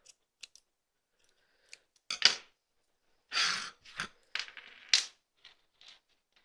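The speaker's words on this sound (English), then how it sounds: "Trim those bits so that they're the same length as the rest of your tassel." Sharp scissors snip tassel threads in a few quick separate cuts with gaps of silence between them, close and fairly quiet, and no one speaks.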